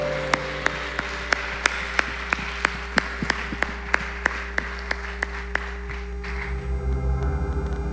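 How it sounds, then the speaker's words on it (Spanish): A church congregation at Filadelfia in Neiva claps in steady unison as an offering to the Lord, sharp evenly spaced claps ringing out over sustained musical tones before fading into a low swell. "Dele una ofrenda de aplausos al Señor."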